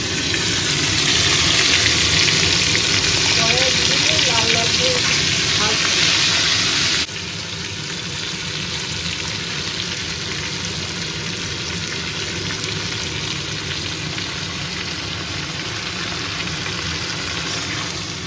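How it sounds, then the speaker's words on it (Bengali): Turmeric-and-salt coated starfruit pieces frying in a wok for pickle, a steady close sizzling hiss that drops to a softer level partway, with a voice briefly speaking over it. "হলুদ নুন মাখানো কামরাঙাগুলো এক এক করে কড়াইয়ে দিয়ে দেবো।"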